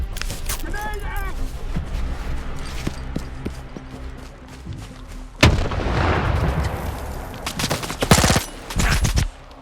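STALKER 2 combat with a thrown grenade and gunfire: scattered shots and bursts, a heavy explosion-like boom midway, then more sharp close gunfire, with a voice talking over the action.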